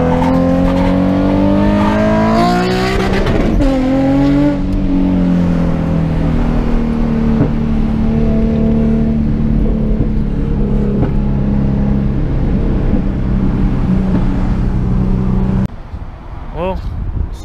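Cars drive past on a road while someone films from a truck window, their engines droning loud and steady with shifting pitch, a rev rising early on and the roar dropping off abruptly near the end.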